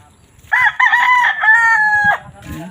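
A gamecock crows one loud, close, drawn-out cock-a-doodle-doo at a market selling fighting roosters. Faint background bustle sits under the call.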